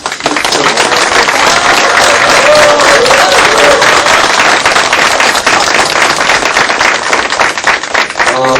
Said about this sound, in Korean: 우리 후보님께 큰 박수로 한번